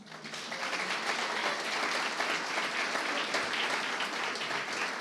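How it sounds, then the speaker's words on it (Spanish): Audience applause at an evening inauguration of the COLPIN 2025 journalism conference at Universidad Torcuato Di Tella in Argentina: a dense, steady wash of many hands clapping that holds at an even level for the full stretch, with no voices over it. "Quiero pedirles un aplauso para el Foro de Periodismo Argentino"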